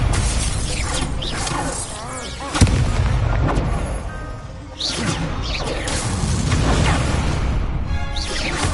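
Confringo spell explosions in the video game Hogwarts Legacy, a dense run of booming blasts, shattering crashes and whooshes, loud and close, with one sharp bang standing out mid-stream and no voices over them.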